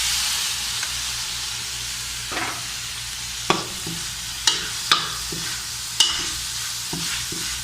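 Chicken liver and onions sizzle and hiss steadily in a hot pan, with several sharp spatula scrapes and clanks toward the end.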